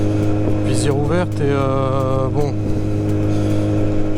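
A Kawasaki Z800 motorcycle with a decatted Arrow exhaust line pulls hard through the revs in rising sweeps, heard close from the rider's position with some wind, and a voice speaks briefly over it.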